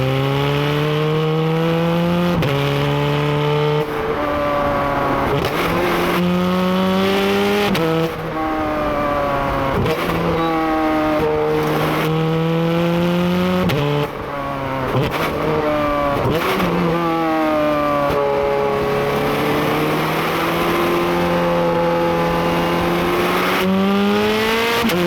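A Ferrari 430 Scuderia's engine is accelerating hard with loud, continuous revving. It climbs through the gears with rising pitch and brief dips at each shift, sustained and close throughout.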